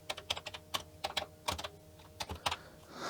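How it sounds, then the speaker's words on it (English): A Wi-Fi password is typed on a Commodore 64 keyboard, close up and fairly quiet, as an uneven run of clicky keystrokes in quick bursts with short pauses between them. "So let me type the password."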